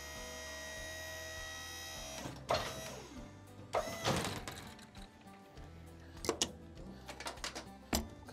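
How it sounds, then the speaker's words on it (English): Hydraulic controls lower and lock the solar panels on an off-grid trailer, giving a quiet, steady mechanical whir with a few clunks and knocks as the panels settle. "we can use our hydraulic controls. Get it all lowered and locked in place."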